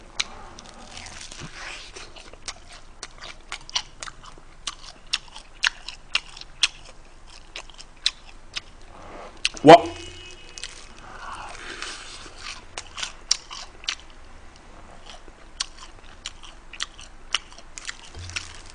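Close, crunchy bites and chewing of the rib section of BHC Bburinkle fried chicken, with repeated sharp crackles and one especially loud crunch midway, in a quiet room.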